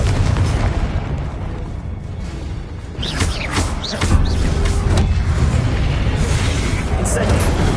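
Confringo blasting spell cast in a Harry Potter video game, a run of booming explosive bursts and pops over a constant rumbling game soundscape, with a voice speaking in between.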